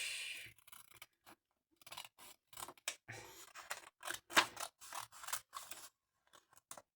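Scissors cutting paper for scrapbooking, a close, quiet series of crisp snips and rustles in an irregular rhythm with short gaps between cuts.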